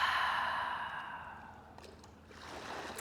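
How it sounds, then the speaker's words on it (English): A long, deep Ujjayi yoga exhale through the throat, a close, steady breathy rush that fades out, followed by a softer breath. "We are recreating that sound with our Ujjayi breath, long, deep, nourishing, fluid, audible breath"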